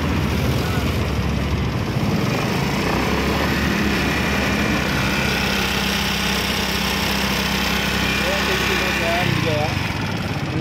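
A motorcycle engine with a suspected connecting rod fault idles steadily and loudly throughout, with a low rumbling hum and faint background voices.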